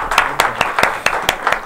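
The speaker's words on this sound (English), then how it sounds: "Round of applause." An audience at a live community show gives a short, close round of applause with sharp, evenly spaced claps.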